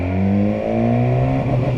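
A 2019 second-generation BMW S1000R motorcycle engine revs steadily in first gear against a pit lane speed limiter set to 4,000 RPM, a loud, close, sustained drone with a slight flutter.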